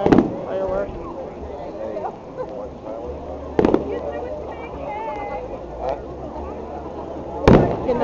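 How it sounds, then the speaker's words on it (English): Fireworks at a public display in Herndon, with sharp bursts about every four seconds, crackling and booming over crowd chatter and background music, heard from some distance. "Flag. Firework."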